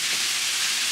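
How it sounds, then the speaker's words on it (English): Ground beef sizzles in a hot oiled pan, a loud, steady, dense hiss that holds without a break throughout. "I'm going to throw my meat in there"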